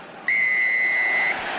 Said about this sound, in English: that's after the whistle's gone